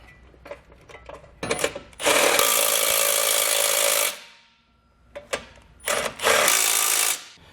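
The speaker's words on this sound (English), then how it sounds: "Just loosely get everything in place, then we can snug all of our hardware down." A hand ratchet snugs down bolts on a Roadmaster Direct-Connect base plate kit, its clicking coming in two long, loud bursts with short clicks and pauses between them, close up and with no talking.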